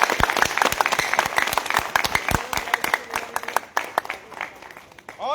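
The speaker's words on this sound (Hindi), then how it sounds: "एक बार जोरदार हमारे डॉक्टर पंकज सर के लिए जोरदार ताली हो जाए" Audience applause at a wellness coaching event, a dense burst of many hands clapping loudly and steadily, then thinning out toward the end with scattered claps.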